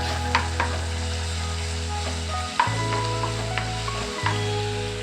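Garlic and raw ginger paste frying in hot oil, a steady close sizzle with occasional crackles and pops, no voices.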